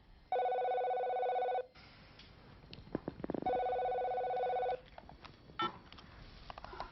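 A telephone rings in two long electronic bursts separated by a pause, clear and close, with faint knocks and rustles between the rings.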